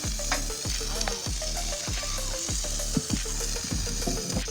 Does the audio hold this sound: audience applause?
no